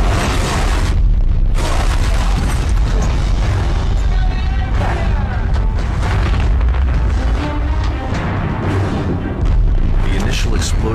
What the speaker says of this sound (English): the tragedy was caused by a torpedo explosion